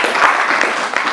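A church congregation claps for Jesus during a sermon, a brief, dense burst of loud applause from many hands close together.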